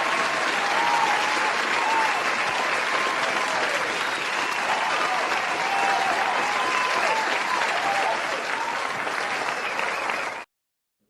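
Studio audience on a podcast applauding and cheering, dense steady clapping with crowd noise, loud and continuous before cutting off abruptly.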